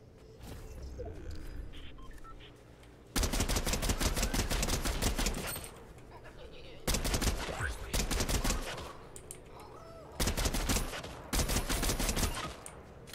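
Bursts of rapid automatic gunfire from a weapon in Fortnite, loud repeated volleys of several seconds each, separated by short quieter gaps of game ambience.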